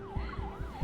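Police sirens in the video game Love and Deepspace: a wailing siren sweeps up and down in steady loops, fairly loud over a low rhythmic pulse, with no voices.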